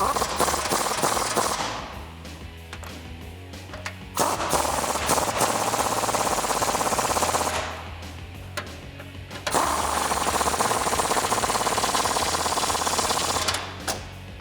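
An impact gun spins an 18mm socket to tighten the rack bolts on a 2014-2018 Silverado 1500 during a lift kit install. It sounds in two long, loud, rattling bursts with brief quiet gaps between them.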